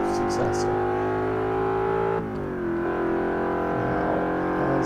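A 2015 Ford Mustang with the 5.0 V8 in the Forza 5 racing game accelerates hard, a loud steady engine drone that climbs in pitch, dips briefly at a gear change, then rises again.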